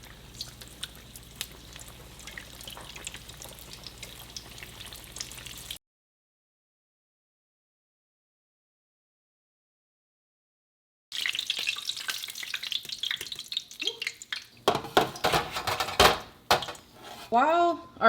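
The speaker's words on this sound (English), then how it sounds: "While our empanadas are frying up" Empanadas sizzle and crackle in hot frying oil, a busy hiss with popping, broken by a stretch of silence, then clinks of utensils and pans.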